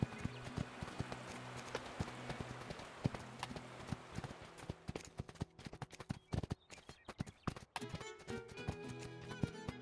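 Horse hooves clip-clop steadily through the DreamWorks game Spirit Lucky's Big Adventure, a busy rhythm of close hoof taps that thins into scattered sharper clacks toward the end, with no voice over them.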